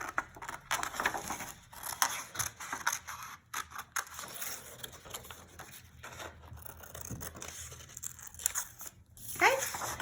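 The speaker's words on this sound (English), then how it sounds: "I'm gonna cut out my tail fin here." Scissors cut a tail fin out of construction paper in a long run of close, crisp snips and crunchy paper rustles with an uneven rhythm.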